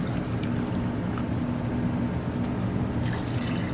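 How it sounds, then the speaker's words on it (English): Water is poured steadily into a pot of forcing hyacinth and paperwhite bulbs, likely from a narrow-necked vessel, making one continuous close pouring wash that lasts throughout with no talking. "all we need to do here now is just fill them up with water"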